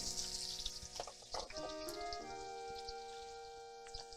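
Carrots and onions sauté in a pan with a soft, steady sizzle and crackle, punctuated by a few light stirring clinks and taps, quiet and close with no talk.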